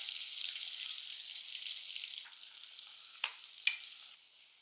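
Masala-coated papaya pieces sizzle steadily in hot oil in a pan, a bright constant crackle close by that softens slightly near the end, broken by a couple of quick clinks from stirring.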